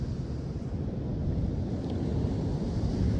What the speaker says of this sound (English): Cold, windy day.